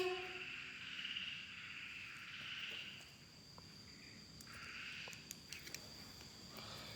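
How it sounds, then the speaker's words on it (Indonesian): Frogs croak faintly in a quiet outdoor night chorus mixed with insect chirping, rising and fading in soft bursts, with a few small clicks nearby. "Kodok, kamu bunyi lagi."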